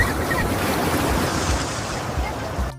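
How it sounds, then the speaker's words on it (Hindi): Sea-like waves churn in a water park wave pool, a loud continuous roar of surf and splashing with wind buffeting the microphone. "ये है वेव पूल। इसे हिंदी में लहरों वाला तालाब कहते हैं। इसमें समुद्र जैसी लहरें बनती हैं।"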